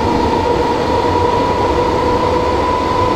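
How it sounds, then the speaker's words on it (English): A class 455 electric commuter train in a video game, its traction motors droning with a steady whine and rumble as it accelerates, continuous and loud with no voices. "I like being out of the cab because you get to hear the noise of, like, the noise of the motors."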